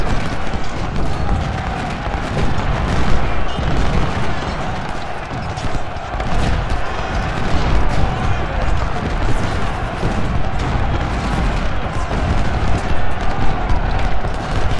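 Continuous battlefield din from a Civil War strategy game, dense rumbling artillery and musket fire with scattered booms at mid distance, steady and loud throughout without a clear single cannon shot standing out.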